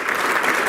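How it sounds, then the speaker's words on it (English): A brief, steady burst of audience applause at a civic talk honoring a Chicago buildings commissioner, dense clapping heard alone for under a second. "Let's give him a round of applause."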